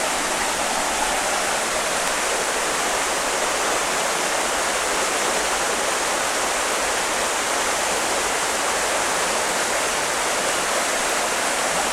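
Water rushing loudly in a constant, dense roar, like a fast mountain stream heard up close, with no voices.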